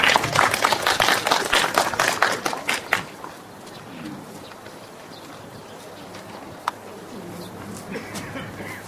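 A crowd claps at a literary award ceremony, a loud, dense burst of applause for about three seconds that tapers off, leaving a quiet hall with faint room noise and one brief knock.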